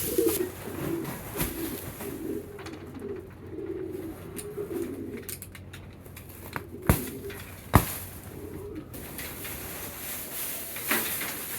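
Pigeons coo softly in a backyard coop on a windy winter day, repeated low murmuring calls through the first half and again later, with occasional sharp knocks and a steady faint hiss of wind behind.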